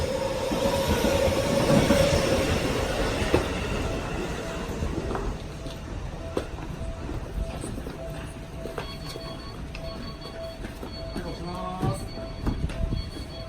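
A morning commuter train in Japan runs past on its rails, a steady rumbling wagon noise with faint wheel squeal and clicks, fairly close and continuous throughout.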